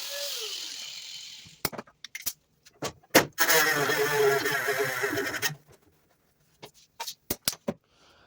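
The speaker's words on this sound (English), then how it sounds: "let me get my cutoff wheel and we'll see if I can't do it without pulling this off" A cutoff wheel grinds into the lip of a Ford's body panel in a garage, a harsh whining cut lasting about two seconds. Sharp clanks and clicks of handling the tool come before and after.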